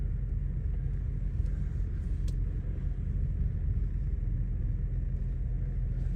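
A car drives slowly along a campsite track, heard from inside as a low, steady engine and road rumble, with faint brushing and scraping from branches rising now and then above the drone.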